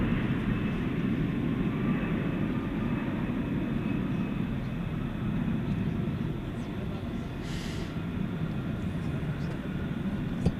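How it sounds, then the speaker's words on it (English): A jet airliner with partly painted-over Asiana colours rumbles at night on runway 18 Left at DFW Airport, positioned for takeoff, its steady low engine roar continuous and fairly loud throughout, with no talk over it. "looks like it's positioned to take off from the short T here on runway 18 left"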